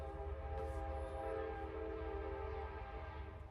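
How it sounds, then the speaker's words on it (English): A low, steady rumble of a train rolling past at a distance, with a faint horn sounding briefly, no talking. "You hear that train?"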